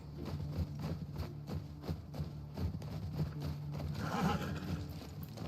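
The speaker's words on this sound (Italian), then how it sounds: "Cavalli." Horses in The Last of Us Part II clip-clop steadily with rhythmic hoofbeats, followed by a loud neigh near the end, set against a low ambient game backdrop with no talk.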